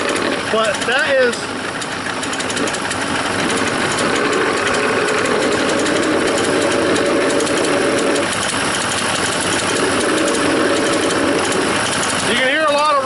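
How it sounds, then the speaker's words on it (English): A running car engine idles with a loud, busy mechanical rattle and clatter up close from a rocking alternator. Short bursts of talking come at the start and end. "you can hear a lot of rocking and rolling right there on the alternator"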